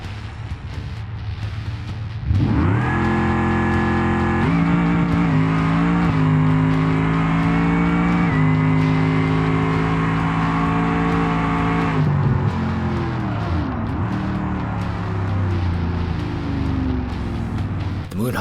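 A Moonhawk drag car in BeamNG roars off the line and holds a loud, steady high-revving engine note down the strip, shifting through gears before the pitch drops off as it slows.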